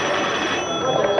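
A telephone rings in an indoor scene from an old Turkish film, a brief electronic trill heard under a voice.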